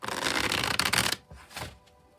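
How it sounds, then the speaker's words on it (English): Tarot deck shuffled by hand in a card-reading session: a dense, steady riffling rustle for about a second, a brief snap, then a couple of softer, quieter card flutters. "we'll shuffle till the deck feels ready"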